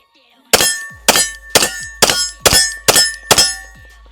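A stainless steel pistol firing Winchester white box ammunition, seven loud sharp shots at a steady half-second rhythm, each ringing with a metallic clang, close to the listener.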